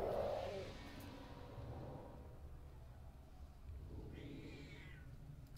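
A house cat lets out one drawn-out meow near the end, soft and a little distant over a low indoor hum, with no voices during the call.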